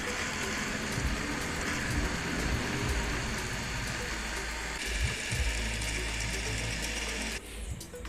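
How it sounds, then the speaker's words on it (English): The disc drive motor of a PS4 Slim spins its rollers during cleaning, making a continuous close mechanical whir with a fine rattling texture. It holds steady and then drops away abruptly near the end. "while those rollers are rotating, I'm just going to basically use the drive's motor to clean the rollers"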